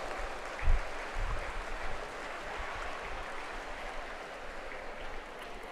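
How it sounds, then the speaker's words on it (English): Audience applause at a junior national aquatic championship final, a soft, distant-sounding patter of clapping with a brief thump early on, steady and fairly faint throughout. "Please join me in giving them our best wishes with a huge round of applause"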